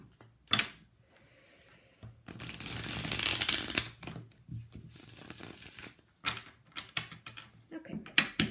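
Tarot cards riffled and shuffled in several bursts, crisp and close, with brief pauses and soft handling noises between them.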